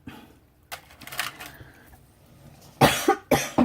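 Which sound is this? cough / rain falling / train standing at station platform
cough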